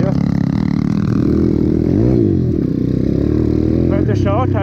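An Apollo RFZ 140cc pit bike is ridden through town, its small engine growling and revving with rising and falling pitch close to the rider, and a voice speaks over it near the end.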